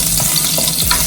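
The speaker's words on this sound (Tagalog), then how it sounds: "Sa ating adobong pusit, magigisa tayo ng luya." Ginger sautés in a hot pan for squid adobo, a close, lively sizzle broken by a few quick scraping stirs within about a second.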